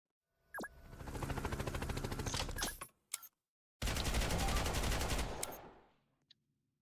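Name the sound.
gunfire from a placed gun in the Roblox game Cold Front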